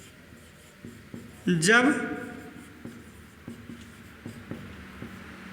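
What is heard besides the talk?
chalk or pen writing on a board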